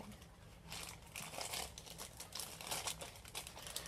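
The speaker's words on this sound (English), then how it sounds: "Let me take it out of the plastic bag." A plastic bag crinkles and rustles as it is handled and opened, a continuous faint crackling with irregular bursts close to the listener.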